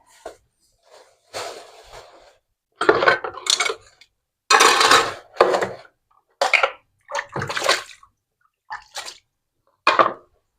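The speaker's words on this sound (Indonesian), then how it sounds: "aku cuci piring nih" Plates and kitchen utensils are washed in bursts of running water, with clinks and splashes close by, separated by short silences.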